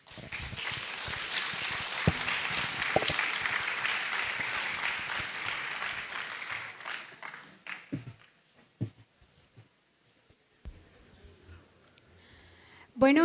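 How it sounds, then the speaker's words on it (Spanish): Loud audience applause at a conference fills the first several seconds, then fades into scattered claps and a quiet room with a few stray noises. "Un fuerte aplauso."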